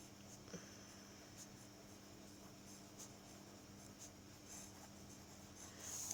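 Pen strokes on paper while writing letters by hand, a soft scratchy scribbling that runs steadily at close range and low level, with no talk.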